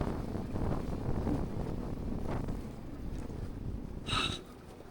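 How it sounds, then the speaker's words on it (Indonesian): Strong wind with rain at night on an island, a steady, rough roar of gusts buffeting the microphone, with a brief sharper burst near the end and no clear talk. "langsung angin kuat langsung guys."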